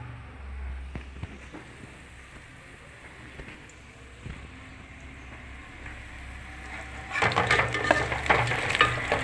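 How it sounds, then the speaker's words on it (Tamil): Cinnamon, cloves, cardamom, fennel, onion and curry leaves sauté in hot oil, a low steady sizzle with occasional stirring clatter that swells into louder, brighter crackling near the end. "எண்ணெய் ஊற்றிச்சு பட்டை லவங்கம் ஏலக்காய் சோம்பு வெங்காயம் கறிவேப்பிலை எல்லாம் வதங்குது"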